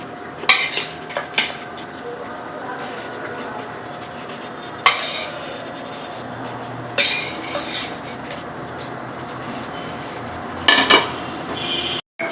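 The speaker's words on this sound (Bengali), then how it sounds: "ঝোল ফুটে গেছে আমি মাছগুলো দিয়ে দিচ্ছি" Rohu fish pieces go into a pot of boiling Bengali fish curry, with a few sharp metallic clinks and knocks of utensils against the pot over a steady low simmering hiss; no talking.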